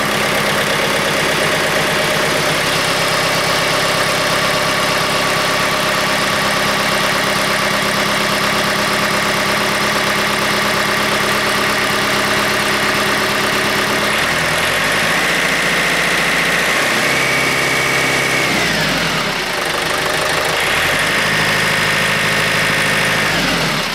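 A 110 TLB tractor backhoe's diesel engine idles loud and close, a steady low throbbing hum that shifts pitch and rhythm partway through, then settles again, with no talking.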